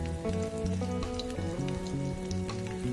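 Chopped onion and minced garlic sizzle steadily in hot oil in a pan, a continuous close crackle with faint tonal background music running underneath.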